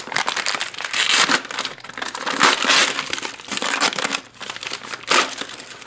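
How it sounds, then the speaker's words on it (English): Light plastic outer wrapping on a Spanish 24-hour military ration pack crinkles and crumples loudly up close in repeated bursts, with no talking. "this is kind of a light plastic outer wrapping"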